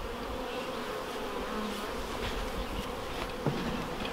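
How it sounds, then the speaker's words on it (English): Bees buzzing at a homestead hive, a constant close hum from many insects, fairly quiet and steady, with no talking. "How are you gonna get those bees in there?"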